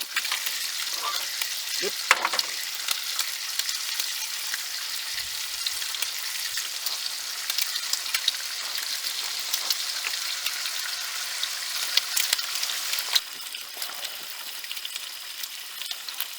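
Maple flavoured bacon frying in a pan, giving a steady, dense sizzle that runs throughout at moderate level with small crackles and scraping stirs, and one brief word spoken.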